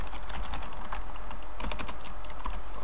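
Computer keyboard keys are typed in quick, irregular bursts while filling in a forum admin account form, close and clear over a low steady hum.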